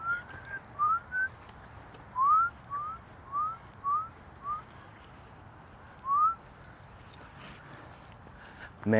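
Someone outdoors at a park whistles a string of short, rising notes at a moderate distance, with pauses between them over quiet background noise.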